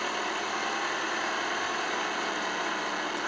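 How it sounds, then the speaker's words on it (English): A simulated Cessna TR182 engine in a Redbird TD2 flight simulator runs steadily after start-up, a constant, even droning hum with no talk over it. "Engine starts up fine."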